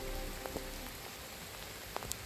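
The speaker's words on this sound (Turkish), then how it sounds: "Yağmur yağıyor." Rain falling outdoors onto a surface, a steady broadband patter at moderate level with a few sharper drops standing out, no voices.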